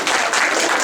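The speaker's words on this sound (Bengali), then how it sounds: "এই জোরে হাততালি দাও।" A short, loud burst of audience applause at a Saraswati Puja stage play, dense overlapping clapping close by with no speech.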